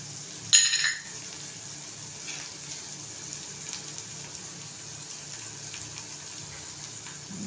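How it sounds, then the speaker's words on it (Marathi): A short splash of water, about a spoonful, poured into a pan of pea and potato curry, followed by a quiet steady hiss and faint background noise. "आणि किंचित पाणी घालते, 1 चमचाभरच"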